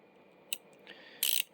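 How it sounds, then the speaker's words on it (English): A Craftsman 1/4-inch fine-tooth ratchet gives brief, close mechanical clicks and a louder rapid ratcheting burst near the end, over a quiet background. "The Craftsman sounds a lot different."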